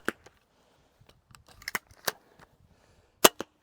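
A Steambow PD5 pistol crossbow being cocked makes a series of sharp mechanical clicks and snaps, irregularly spaced, with two loud close cracks near the end and silence between them.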